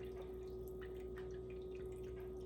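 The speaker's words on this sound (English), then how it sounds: "add the water." Water runs into a water-bath canner holding jars of tomatoes, a quiet, steady pouring and trickle with a constant low hum beneath it.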